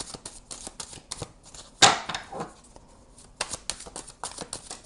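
Tarot cards are shuffled and drawn, giving quick papery riffles and flicks close by with one sharper snap, spread in irregular bursts with no talking.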